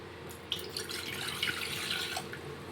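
Water is poured steadily into a pot, a soft continuous splashing hiss with small drips, fairly quiet and alone.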